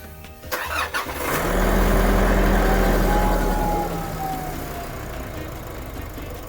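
A car engine cranks briefly, catches and rises into a loud rev before settling to a steady idle, heard close up and alone after a few clunks, on a vehicle back from repair for engine and transmission trouble.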